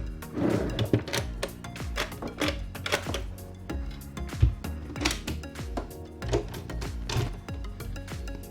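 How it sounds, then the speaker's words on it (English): Storage drawers on a motoryacht opening and closing in quick succession, a dense run of wooden knocks, slides and clatters close by, with no talking. "These are just great drawers, a series of drawers."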